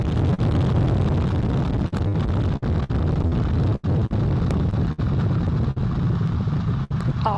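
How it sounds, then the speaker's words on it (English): Artemis 1 rocket at liftoff, with the four RS-25 core-stage engines and two solid rocket boosters firing, a continuous loud, heavy roar with crackling rumble and brief dropouts throughout. "All 4 RS-25 engines on the core stage and 2 solid rocket boosters now propelling the vehicle"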